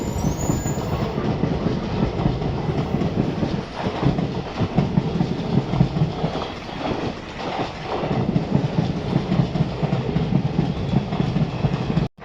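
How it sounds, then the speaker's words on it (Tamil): An express train with AC coaches rumbles steadily past up close near Karaikudi with rhythmic clickety-clack of wheels, loud and continuous throughout, cutting off abruptly at the end. "Some passenger train, I guess இல்லை எக்ஸ்பிரஸ் ட்ரெயின் தான்."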